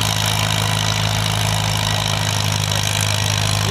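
A tractor engine labouring at low RPM in a low gear, dragging a heavy sled at a 4-H tractor pull, a steady, close, droning rumble with no break for the whole stretch.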